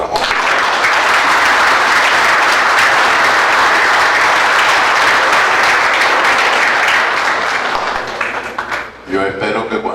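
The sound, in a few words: audience applause for monsignor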